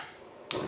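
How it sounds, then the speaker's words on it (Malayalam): A gas stove clicks on in a kitchen while water heats in a steaming pot for fried chicken; one sharp snap-like ignition click is followed by a brief soft burst of burner noise, close and alone. "തീ ഓണാക്കാം."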